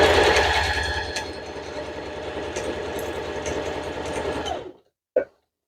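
A domestic sewing machine test-stitching a scrap of fabric, a loud rapid mechanical whirring hum that runs steadily for several seconds, then stops, followed by one brief clack.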